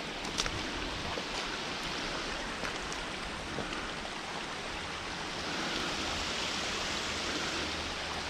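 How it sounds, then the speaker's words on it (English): Steady rushing water, like a stream flowing nearby, a continuous broadband wash with a few faint ticks and no voices. "Definitely still hear water running."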